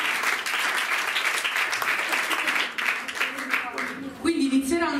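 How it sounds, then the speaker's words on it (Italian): Audience at a music school recital in Deliceto gives dense, steady applause filling the room, with a voice beginning to speak over it near the end. "un applauso"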